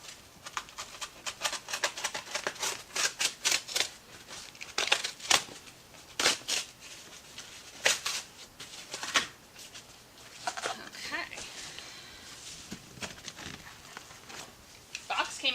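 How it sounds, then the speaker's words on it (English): Crinkling, crunching cardboard and scattered sharp cuts and thumps as a heavy box holding a Warn 9.0 RC winch is cut open, close up and intermittent, with no talk. "let's see if I can just cut the box off"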